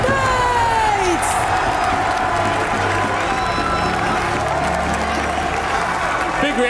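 Esports arena crowd at a VALORANT playoff event roars, cheers and applauds for a team introduction, loud and sustained with whoops over dense clapping.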